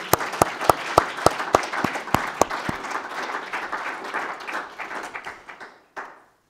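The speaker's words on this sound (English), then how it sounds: "let's give them a round of applause" Loud, sharp claps ring out at first, then merge into a dense burst of applause that fades away over several seconds.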